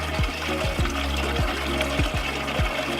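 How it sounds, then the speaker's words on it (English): A 6-gallon carboy being filled with natural mountain spring water, a steady close gush and splash of pouring water with a rising gurgling note as the vessel fills. "You just saw the video of me filling up the 6-gallon carboy with natural spring water here."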